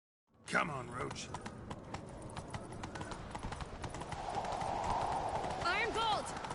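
Galloping hooves from a horse in The Witcher 3 video game, a rapid, steady clip-clop that runs throughout and grows louder, with short vocal outbursts and a brief whinny over it.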